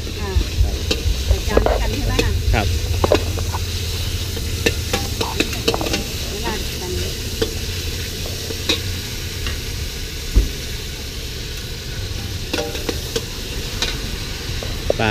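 Pad thai wrapped in egg being stir-fried in a pan at a street food stall in Chaiyaphum, a steady sizzle with repeated scraping and stirring clatter throughout, close and fairly loud amid background market bustle.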